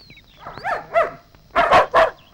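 A dog barks in short bursts, a few yips followed by two louder, close barks, with no talk over them.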